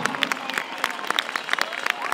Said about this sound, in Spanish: Aplausos para cada uno de ellos, por favor.